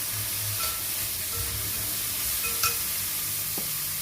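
Chicken pieces are stir-fried and roasted in a pan, giving a continuous loud sizzle with scraping stirs and a few soft clinks of a spatula throughout.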